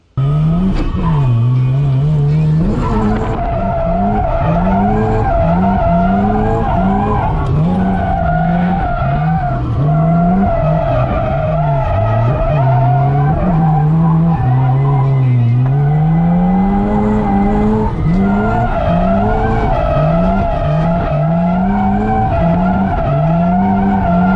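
A Mazda RX-7 FC drifting, its rotary engine revving loud and close over long continuous tire squeal, with the pitch rising and falling through the slides, no voices.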